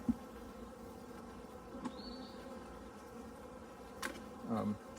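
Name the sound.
honey bees buzzing in an opened hive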